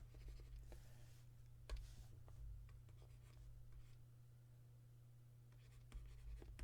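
Pen writing out a maths solution, quiet scratchy strokes in short bursts at close range over a steady low hum, with no talk.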